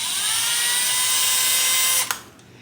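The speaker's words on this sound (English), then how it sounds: "Now we're going to drill a hole in each one of the cleats in the middle" An electric drill bores a hole through a small wooden cleat for an archtop guitar repair, a steady high whine that holds for about two seconds before the bit breaks through and spins down.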